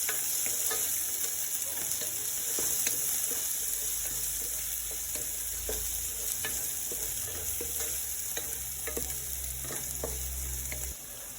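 Cloves and épice for Haitian vegetable rice fry in a pot with a constant close sizzle, while a spoon scrapes and stirs in irregular clicks throughout.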